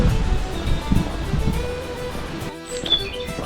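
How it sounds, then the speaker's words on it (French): Wind in a coastal forest rushes and rumbles against the microphone in uneven gusts, with a brief lull near the end and faint bird chirps, and no talking. "il y a du vent, mais ça va"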